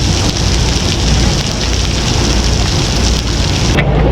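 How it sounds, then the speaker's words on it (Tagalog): Heavy rain pours down in a steady, loud, dense roar of drops on surfaces that lasts throughout, with no voices. "Lumakas uli, umulan."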